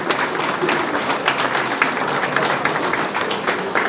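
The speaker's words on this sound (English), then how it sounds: "Let's give you all a round of applause." Audience applause at a National Technical Honor Society induction ceremony, steady dense clapping from a large seated crowd filling the room for several seconds without pause.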